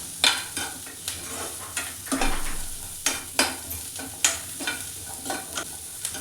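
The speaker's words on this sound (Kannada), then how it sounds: "ಹಾಗೆ ಮಸಾಲನೂ ಸಹ ಇದರಲ್ಲೇ ಹುರ್ಕೊತಾ ಇದ್ದೀನಿ." Paneer and masala are stir-fried in a pot, with a sizzling hiss under repeated, fairly regular scrapes and clinks of a spoon against the pot, close by.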